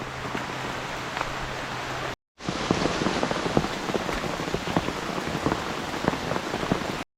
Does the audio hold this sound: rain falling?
yes